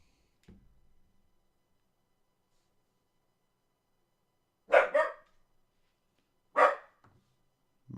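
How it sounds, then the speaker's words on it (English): A dog indoors gives two short, loud barks about two seconds apart, with quiet in between and a faint thump just before. "there's nothing to bark at"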